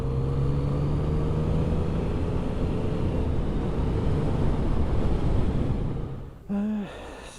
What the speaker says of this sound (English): Standard exhaust on this one. Sounds very nice anyway.